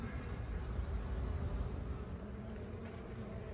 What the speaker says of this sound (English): But there still must be a lot of bees in the wall.